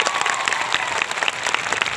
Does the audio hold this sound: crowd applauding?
yes